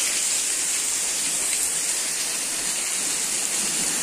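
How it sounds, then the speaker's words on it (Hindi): Heavy, steady roar of a waterfall with water pouring fast from high up on the Kedarnath trek, a dense hissing wash that stays constant and close with no voices over it. "ये देखो कितने तेज पानी गिर रहा है यार इधर"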